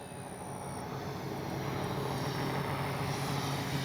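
Radio-controlled F4U Corsair warbird model making a slow flyby with flaps down, its engine a steady continuous drone heard from a distance, growing slightly louder over a few seconds, with no talking.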